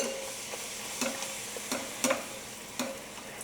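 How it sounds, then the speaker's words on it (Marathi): A puri fries in hot oil while oil is ladled over it, giving a faint, steady sizzle broken by soft clicks and small taps at irregular intervals, close and quiet. "आता कडेने ही पुरी तेलात सोडायची आहे गॅस थोडा मोठा करायचा आणि त्यावर असं झाऱ्याने तेल सोडायचं"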